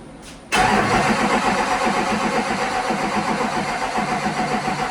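A Duramax diesel engine, just repaired after a fuel pump leak, cranks briefly and then fires. It settles into a loud, steady, rough diesel idle close by, with no speech over it.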